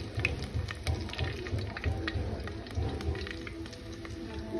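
Garlic frying in a pan over a wood-fired clay stove, a steady crackling sizzle with fine popping spatters continuing throughout at moderate level, no talk.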